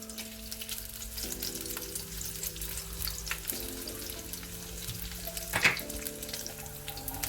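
Pieces of smoked pork fat sizzle steadily in a pan, a soft continuous crackle with a brief louder clatter near the end and no talking.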